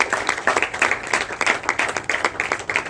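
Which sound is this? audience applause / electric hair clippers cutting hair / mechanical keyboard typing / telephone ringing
audience applause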